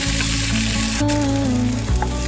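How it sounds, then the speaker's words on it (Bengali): Tomato, green chilli and garlic fry in a pan, a loud close sizzle overlaid by steady humming tones that shift pitch midway. "আমি টমেটো কাঁচা লঙ্কা আর রসুন এগুলোকে একটু ভেজে নেব"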